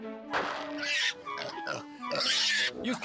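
A cartoon pig in an animated children's series about Saint Francis of Assisi oinks and grunts in several loud, close bursts over about three seconds, with no voices.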